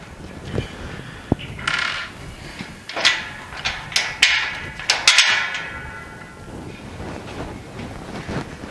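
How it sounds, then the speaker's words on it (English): A top panel is fitted onto a metal TX knock-down rack, giving a series of sharp metallic clanks and knocks, loud and close, spaced irregularly through the middle of the clip over a low background hum. "I'm going to bring the other panel over, the top panel, which is right here."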